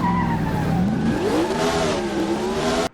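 A 3,400-pound NASCAR Cup Series stock car skids at high speed, loud continuous tire squeal layered over the roaring engine for about three seconds before cutting off abruptly.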